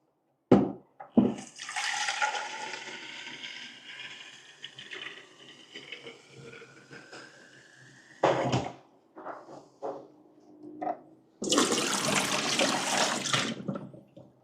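Water runs through an Xbloom coffee machine during a rinse cycle, a steady hiss and trickle lasting several seconds, broken by a few knocks and clunks, then a second loud burst of flowing water near the end.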